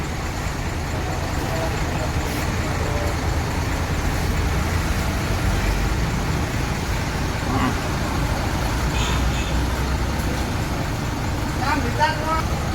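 A Harapan Jaya intercity bus on the road in East Java, heading for Blitar, its engine and road noise forming a steady, loud rumble throughout, with faint passing traffic sounds.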